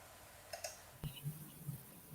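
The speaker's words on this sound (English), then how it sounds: "We can hear keyboards now." A computer keyboard clicks over a live stream in a few light, scattered taps, faint and distant, with a low murmur in the background.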